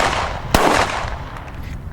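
A Glock pistol, heavily oiled during a torture test, fires one sharp, loud close-range shot that decays into a brief echo, with steady background noise around it.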